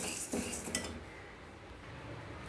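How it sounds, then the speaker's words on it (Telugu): A utensil scrapes and clinks in a pan as toor dal is dry roasted and stirred, with a couple of brief metallic knocks early on before the sound settles into quiet, soft scraping. "నేను కందిపప్పును వేపుతున్నాను"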